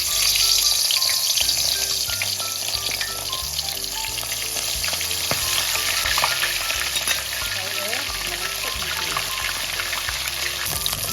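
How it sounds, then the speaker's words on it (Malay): Fish frying in hot oil for Malay ikan berlado, a steady loud sizzle and crackle running unbroken throughout with occasional stirring, no voices. "Minyak pun dah panas. Kita nak goreng ikan."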